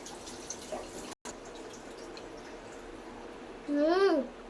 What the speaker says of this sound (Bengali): ধুয়ে নিচ্ছি আসো আসো আমি তোমারটা ধুয়ে দেই এটাও ধুয়ে দিচ্ছি